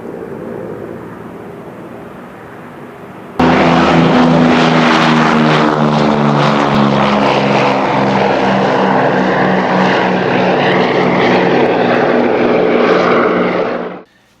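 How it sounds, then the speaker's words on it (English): An airbrush air compressor kicks on abruptly and runs with a loud, steady motor drone and mechanical hum, close by, until it cuts off at the end. "Shut up, compressor."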